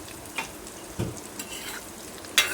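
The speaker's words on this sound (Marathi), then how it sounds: "कटलेट छान भाजते" Fish cutlets frying in a pan give a soft, steady sizzle, broken by a few light scrapes and clicks from turning them, with a sharper clatter near the end and no talking.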